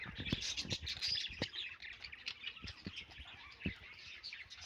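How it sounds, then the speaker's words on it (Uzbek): Small amadina finches chirp and tweet busily up close, a dense chatter of high, quick calls broken by a few soft thumps and rustles. "Mana mayda amadina qush bor mana"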